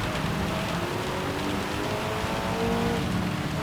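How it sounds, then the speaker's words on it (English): Steady heavy rain hisses over a car racing in the Gran Turismo 7 video game, the engine's whine running continuously underneath at an even, loud level with no talking. "The rain is pouncing down."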